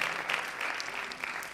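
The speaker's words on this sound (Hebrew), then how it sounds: "ואני מבקש לנצל את ההזדמנות ולמחוא לכם כפיים" A crowd at a youth excellence award ceremony applauds, a dense, steady wash of clapping from many hands that carries on evenly from start to finish.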